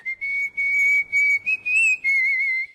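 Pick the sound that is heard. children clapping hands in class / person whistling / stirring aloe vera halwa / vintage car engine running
person whistling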